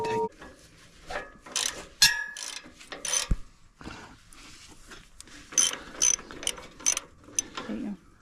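Mechanical clicking and ratcheting as a part is tightened on old farm equipment pulled from weeds outdoors, irregular bursts of metallic clicks at moderate loudness with faint background noise.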